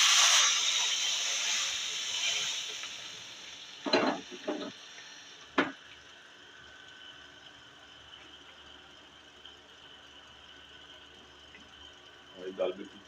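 Hot tempering stirred into chana daal fry, a bright sizzle and hiss that starts strong and fades, followed by a few short bursts of splutter and scraping spaced apart.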